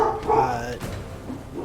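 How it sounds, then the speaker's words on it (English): A dog barks a few times close by in a short burst, loud and tonal, then fades into background noise. "Apologies for the dogs barking at the clear fires going on everywhere at the"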